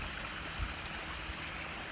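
Backyard pond waterfall fed by 4-inch piping at 2,600 gallons per hour, spilling from a spillway into a 75-foot pond: a steady, broadband rush of falling water, continuous and fairly close, with no voices.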